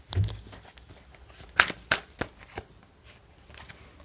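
Tarot cards are handled and drawn up close, giving soft papery slides and a few sharp flicks and snaps as cards are pulled from the deck, with no talk.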